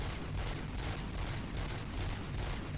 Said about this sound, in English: Infinite ammo, baby. I can just keep shooting forever.